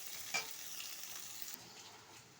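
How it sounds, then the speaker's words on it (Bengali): Onions sizzle in hot oil in a pan, a continuous close hiss with one brief scrape near the start. "পেঁয়াজটা একটু ভাজা ভাজা করে নেব।"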